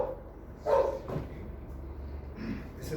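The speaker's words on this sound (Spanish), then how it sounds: "Ese perro tiene hambre." A hungry pastor's dog barking a few times, the short barks faint and somewhat distant against a low background hum, with gaps between them.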